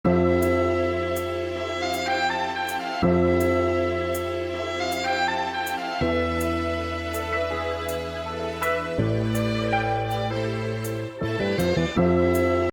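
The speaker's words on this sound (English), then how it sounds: "I chopped up the sample like this, so let me just loop it, and here's how that sounds" A chopped music sample cycles as a loop, sustained tonal chords and melody cutting abruptly at each slice boundary and repeating every few seconds, steady and fairly loud with no talking.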